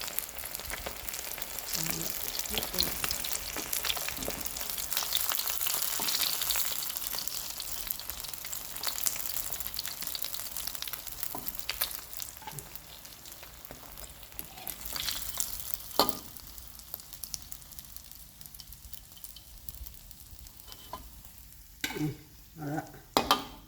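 Tilapia fish heads and tails deep frying in hot oil give a steady, crackling sizzle that is loud at first, then settles and thins, with a few sharp clinks and bubbling bursts near the end.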